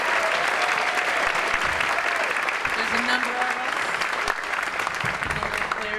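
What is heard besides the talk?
audience applause for the soccer players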